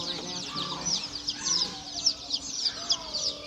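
Baby chicks and ducklings at a farm store, rapid high-pitched peeping and chirping from many birds at once, continuous and close, with bits of a voice talking under it.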